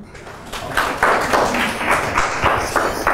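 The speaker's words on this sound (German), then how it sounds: "Klatschen Sie doch mal." An audience claps for a participant during a science education lecture, steady overlapping hand claps of moderate loudness filling the room for a few seconds.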